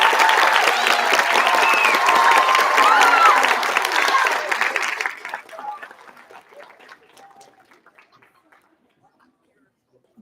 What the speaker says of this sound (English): please give a round of applause and welcome Mr.